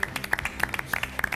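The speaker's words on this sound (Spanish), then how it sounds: "Un aplauso, señores, para Francisco Delgado." Studio audience of a TV show claps to welcome a guest, a short stretch of distinct, rhythmic hand claps, fairly close and individually audible rather than a dense roar.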